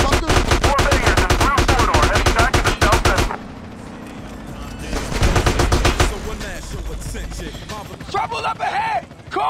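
Rapid automatic gunfire from a Grove Street shootout in GTA San Andreas, a dense burst of shots for several seconds, then more bursts mixed with shouting voices.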